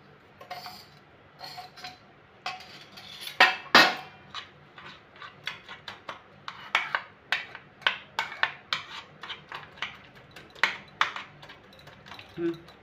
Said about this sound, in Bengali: আবারও ডিমের সাথে ভালো করে মিশিয়ে নেব।